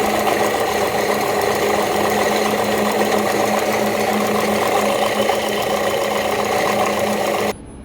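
A laboratory mill grinding 200 grams of rice gives a steady, dense mechanical whir that holds constant and then cuts off abruptly just before the end.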